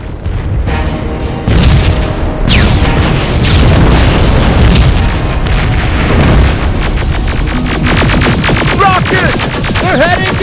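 A rocket explosion booms in the video game Terminator: Resistance, a loud, sustained, roaring blast that fills the scene with dense rumbling debris and crackle, with no talk over it.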